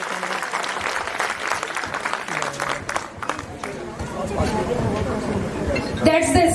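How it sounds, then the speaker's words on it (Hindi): An audience at a playgroup and nursery school performance event applauds energetically, with a crowd of claps and chatter, some cheering, and voices talking over the clapping. "इतने छोटे छोटे बच्चे इतनी बढ़िया परफॉर्मेंस देके गए हैं, तालियां तो बढ़िया बनती हैं।"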